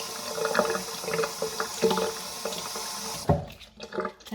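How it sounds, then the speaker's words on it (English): Water runs from a tap while an object is rinsed under it in a garden setting, a close, steady splashing with uneven bursts as the flow hits and shifts, ending in a louder splash. "What I'm going to do is rinse that under the tap."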